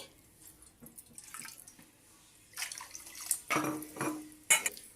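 Water is poured into a bowl of soaked rice for a mutton biryani. Quiet trickling and light clinks are followed by louder splashy bursts and vessel knocks toward the end, with no voices.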